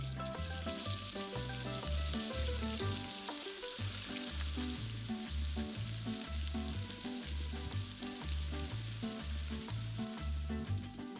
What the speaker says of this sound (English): heat a large pan with olive oil and sear the meatballs on all sides